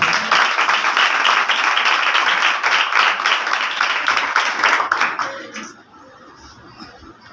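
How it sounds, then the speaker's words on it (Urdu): A church congregation gives strong applause, a dense, loud burst of many hands clapping together that holds steady for about five seconds and then quickly dies away to a quiet room. "مضبوط تالیوں کے ساتھ"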